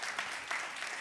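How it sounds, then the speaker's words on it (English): Brief, faint applause from an audience at a ceremonial swearing-in celebration, a soft, even patter of distant clapping. "So another round of applause for all of you."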